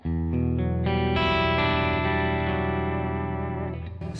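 An electric guitar played through a pedalboard of drive pedals, before a buffer fix, rings out as a loud chain of strummed chords with heavy effects, distortion and echo, sustaining and slowly fading.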